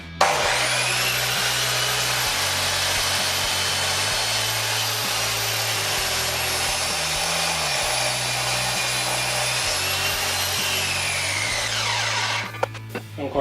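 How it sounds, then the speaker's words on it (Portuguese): An Einhell TC-SM 2531/1U sliding miter saw cuts through a piece of oak, its loud steady whine running nearly continuously for about twelve seconds with a low motor hum beneath, then winding down at the end. "Vamos tentar o corte num bocado de carvalho."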